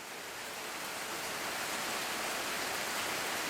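Steady rain pours in a dense, even hiss with no breaks or voices, constant and fairly loud throughout.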